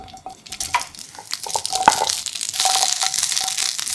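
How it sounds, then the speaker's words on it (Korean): Vienna sausages and chopped green onion sizzle and crackle in a pan with a spoonful of hot cooking oil over medium-low heat, a steady close hiss that swells toward the end. "중약불에 팬 올려 식용유 1스푼 두르고, 달궈지면 비엔나 소세지와 대파를 넣고"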